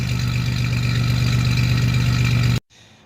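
A 1987 Chevrolet Celebrity Eurosport 2.8 V6 with a Magnaflow catalytic converter idles, a steady, loud, low rumbling hum running evenly, then cutting off abruptly near the end, leaving faint background noise.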